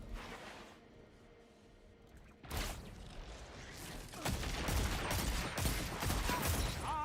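Gunfire in a video game: quiet at first, then dense volleys of shots break out and grow louder and more continuous toward the end, with no voices.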